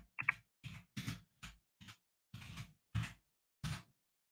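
Keys tapped on a keyboard while a search is typed into TikTok, about nine separate close clicks in an uneven rhythm, faint and alone.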